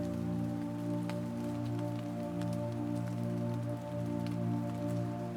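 Gentle rain patters softly against the windows of a house in a forest, a faint, even hiss beneath a steady low droning hum.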